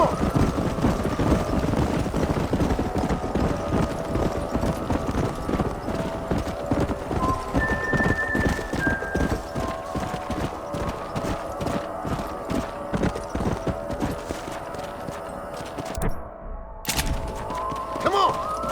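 Horses galloping through a canyon in the video game Red Dead Redemption, a steady, dense clatter of many hooves that stays loud throughout, with an occasional whinny and music and voices blended in.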